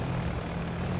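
Twin-engine P-38 aircraft engines drone steadily during a landing in the IL-2 flight game, a continuous low, even roar with no voices.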